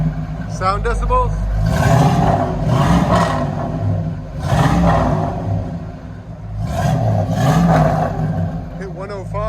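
Three strong throttle blips from a 1973 Ford Mustang Mach 1 V8 running true dual Flowmaster Super 10 mufflers, each rev swelling and dropping back to a deep rumbling idle, with short bits of talk between.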